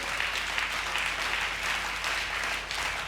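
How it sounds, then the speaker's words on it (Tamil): Congregation at a Sunday church service clapping vigorously and continuously, a dense, even wash of many hands sustained throughout. "கைத்தட்டு, நல்ல ஜோர கைத்தட்டு பார்க்கலாம்"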